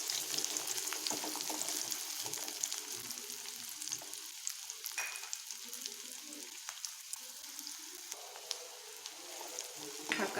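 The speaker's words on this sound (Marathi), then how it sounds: "हा कांदा आपण छान लाल होईपर्यंत तळून घेणार आहोत." Finely chopped onion fries in hot oil in a pan for a spiced chickpea curry, a steady close sizzle with scattered crackles and occasional stirring scrapes, no voices.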